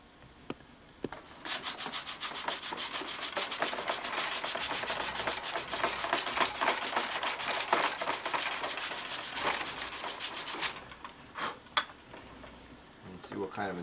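Steady, continuous rasping of sandpaper rubbing back and forth on wood during crash repair bodywork, close and fairly loud, pausing briefly near the end.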